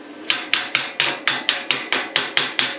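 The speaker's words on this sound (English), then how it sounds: "Tap off the slag." Hammer tapping slag off a steel edge cut with a Simder CUT-50 PRO pilot arc plasma cutter, ten sharp, evenly spaced metallic knocks in a steady rhythm, close and fairly loud with no talk.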